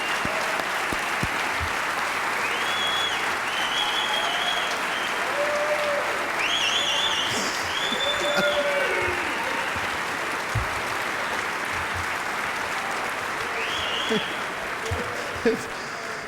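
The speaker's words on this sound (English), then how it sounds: "let's give them a big round of applause" A large audience at the 2010 Basketball Hall of Fame induction gives a long, sustained round of applause for Hall of Famers in attendance, steady and dense throughout with faint voices and whistles mixed in.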